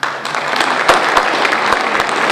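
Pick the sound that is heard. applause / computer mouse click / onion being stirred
applause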